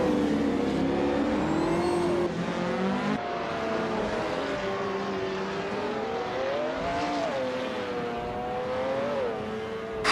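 Race cars at Istanbul Park in a racing game, engines revving and shifting with rising and falling whines, several cars layered close together and pushing hard, steady and fairly loud with no voices.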